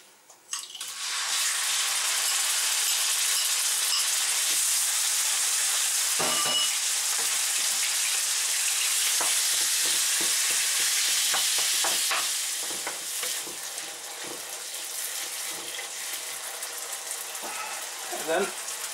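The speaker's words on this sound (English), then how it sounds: "we will fry the meat first" Ground pork frying and being stirred in a pan with a little oil, a loud steady sizzle that fills the clip, with scraping stirs and faint water-like bursts toward the end.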